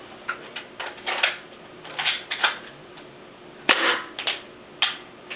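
Airsoft pistol firing a series of sharp, snappy pops at irregular intervals, about a dozen shots with one especially crisp crack, fairly close against a quiet background.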